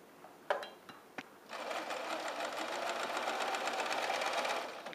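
Sewing machine stitching a round pettiskirt seam, starting after a few clicks and then running in a steady, continuous whirring drone close up.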